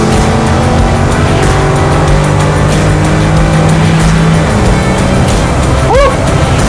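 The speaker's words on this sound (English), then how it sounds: "All right, let's open this thing up a little bit." A Velocity Ford F-250 Highboy truck with a Coyote engine accelerates hard, its loud, steady engine roar filling the whole stretch and rising in pitch near the end, with a short whoop of voice over it.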